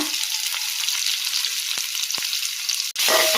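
Cumin seeds and a small chopped onion fry in about two tablespoons of oil in a wok-style pan, giving a steady, loud, broadband sizzle. Near the end it briefly drops off and then comes back.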